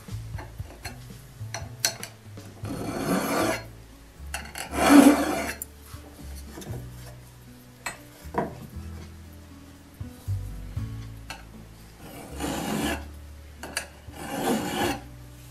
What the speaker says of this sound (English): When I'm filing the spurs, I always want to run the file this direction.